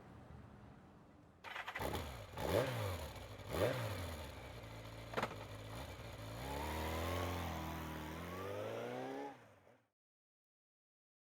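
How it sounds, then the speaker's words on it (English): Motorcycle engine in the game Spirit Hunter: NG, starting with a few sharp revs, then a rising, steady drive-off tone that fades out abruptly into silence. "Get on my motorcycle and drive straight back to my apartment."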